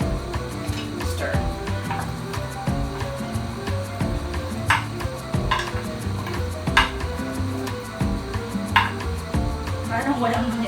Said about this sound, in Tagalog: And then I'm just gonna add some olive oil. Okay, and then we're just gonna give it a good stir.